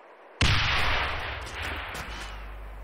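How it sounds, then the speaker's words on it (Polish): A powerful hand grenade, thrown far during a grenadier training, explodes in one sudden loud blast. The boom rolls into a long, slowly decaying rumble with no speech over it. "Tylko daleko, bo to jest mocny granat."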